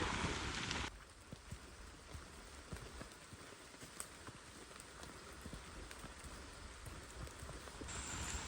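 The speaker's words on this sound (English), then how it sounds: "The rain's coming down a bit now" Rain patters steadily on a wet wild campsite along the Peddars Way in Norfolk, a faint, even hiss of drops with soft ticks, a little louder at the very start and end.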